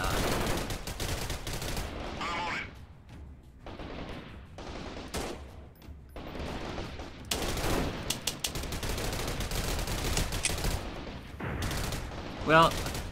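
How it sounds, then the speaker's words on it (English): Gunfire from the video game Freeman: Guerrilla Warfare, with repeated bursts of shots and volleys crackling throughout and a sharp louder burst near the end, while a voice talks over the shooting. "I've been shooting at them."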